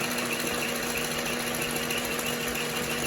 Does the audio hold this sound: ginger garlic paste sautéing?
no